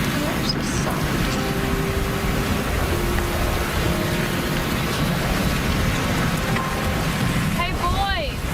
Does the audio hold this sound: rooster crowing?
no